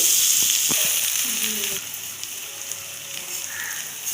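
Ginger paste, cumin-coriander paste and chili paste fry in oil with a steady bright sizzle, close up, with a few clinks of a utensil early on.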